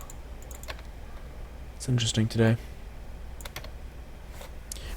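Computer keyboard typing during a C# programming tutorial: scattered quiet keystrokes, with a voice speaking briefly in the middle.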